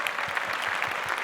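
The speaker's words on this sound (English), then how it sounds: "Big round of applause to her" A crowd at a public speaking competition finale applauds a contestant, brief dense clapping that stays loud and even with no voices over it.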